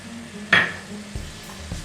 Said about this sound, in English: And stir well properly.